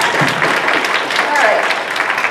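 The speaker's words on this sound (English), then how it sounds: "Round of applause for JC." A crowd at a Bronycon fan convention panel applauds a volunteer, a steady wash of many hands clapping at once, loud and continuous throughout.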